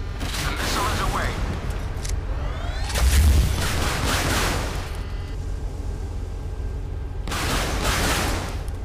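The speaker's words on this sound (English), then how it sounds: "The missile is away." A missile launches from a warship in the Modern Warship naval combat game, with a roaring whoosh and booming blasts over dense, continuous battle rumble that swells and fades in waves for several seconds.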